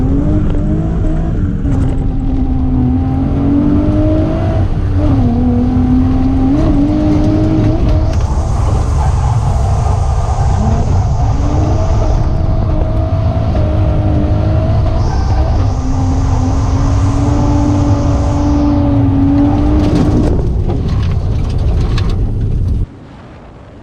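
A road car driven hard around the Calder Park race track, engine loud and close throughout with rising and falling revs through gear changes and brief tyre noise, no talking.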